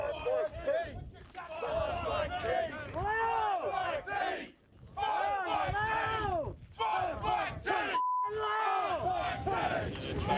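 A large film crew on a post-apocalyptic action movie set shouts together loudly on cue, a sustained roaring crowd of many voices with a few brief gaps.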